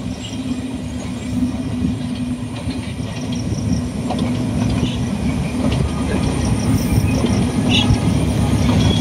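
A train rumbles past at close range for the whole stretch, a steady loud roar with faint clatter of wagons and wheels and no talk.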